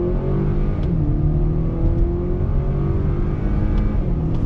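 A 2021 Acura RDX A-Spec with a 10-speed gearbox accelerates hard under manual shifting, its engine drone rising steadily and dropping at gear changes, loud and continuous from inside the cabin.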